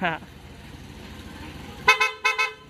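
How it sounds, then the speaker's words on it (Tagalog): A Yamaha NMAX scooter's added loud aftermarket horn honks several times in quick bursts near the end, after a few seconds of engine rumble. "busina. Loud horn."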